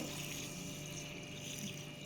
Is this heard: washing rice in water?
yes